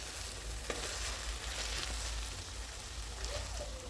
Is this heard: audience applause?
no